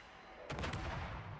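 Naval guns fire from the destroyer Gearing in a World of Warships-style naval game, a sudden loud booming blast that rolls into a short rumbling tail, heard alone.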